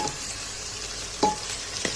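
Steady frying sizzle of tomatoes and garlic in a hot pan, with a couple of brief scraping stirs standing out above the hiss.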